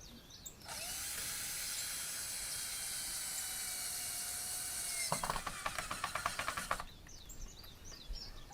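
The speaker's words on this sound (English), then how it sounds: "I install new boards and secure them tightly with a screwdriver." A power screwdriver drives screws into new fence boards outdoors, a steady high whine running for several seconds and ending in a short burst of rapid ratcheting clicks, with no talk.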